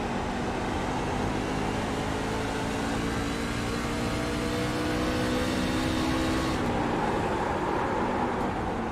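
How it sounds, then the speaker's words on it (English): A race truck on an oval track at the Cream City 150, its engine droning steadily with a slight dip as it brakes and then a rising pull as the throttle opens again, loud and continuous with no talk. "You heard him brake a little too much there, so you had to gas it back."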